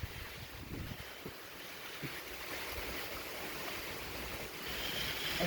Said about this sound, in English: It is pouring out.